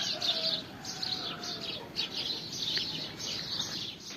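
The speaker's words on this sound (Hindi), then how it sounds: "इधर जो है मुर्गी और मुर्गा जो है सुबह सुबह" Morning village yard with hens and a rooster, bird chirps and clucking-like calls running steadily at moderate distance over a low ambient hush, no speech.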